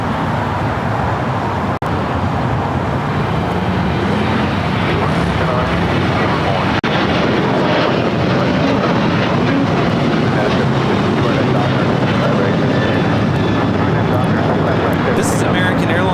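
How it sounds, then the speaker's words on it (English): American Airlines Boeing 737-800 taking off at LAX, a loud continuous jet roar that holds steady throughout, with someone talking over it. "This is American Airlines 2668 taking off to Nashville, Tennessee on the 737-800."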